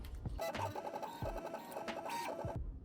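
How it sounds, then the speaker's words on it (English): A 3D printer prints a DIY speaker mount, its stepper motors whirring in repeated tonal runs broken by sharp clicks, steady and close. "The G-code files are then saved to an SD card that is inserted into the 3D printer to begin the printing process."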